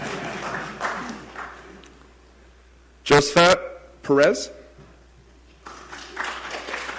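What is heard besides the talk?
audience clapping for a person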